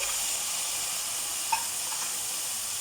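A steady, close sizzle of vegetables frying in a hot pan, continuous hissing with a single faint pop partway through.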